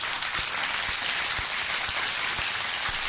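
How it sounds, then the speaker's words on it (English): A round of applause, dense and steady throughout, plays as a short recorded crowd clapping effect with a few soft regular thumps underneath, and no talk over it. "Thank you to all the donators. Round of applause."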